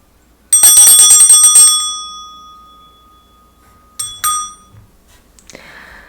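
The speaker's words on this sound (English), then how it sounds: "I'm going to start by clearing the energy with my bell." A small bright bell rings out once with a long shimmering decay, then two quicker strikes follow, close and clear with no talking, at the start of a tarot reading.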